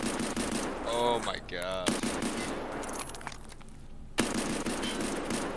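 Rapid gunfire rattles in bursts during a video game firefight, with sharp shots in quick succession. Someone talks and exclaims over the shooting.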